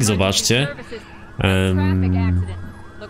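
Ambulance siren during a chase in the Driver San Francisco video game, wailing up and down while someone talks loudly over it.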